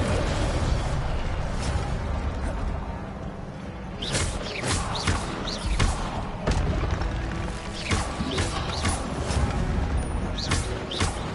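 Fire spell cast in Hogwarts Legacy, amid a dense, continuous game soundscape with repeated sharp bursts and booming impacts that flare loudly throughout the clip.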